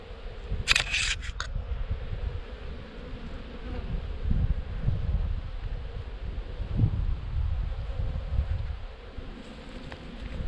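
Insect buzzing hovers steadily around a beehive with a hornet present in autumn, a continuous low drone that swells and dips as it moves near the hive, with a brief sharper clatter early on and no speech.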